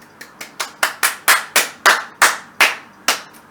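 A single person claps roughly a dozen times, the sharp claps close and fairly loud, starting unevenly and then settling into a slower, steady rhythm with no talk.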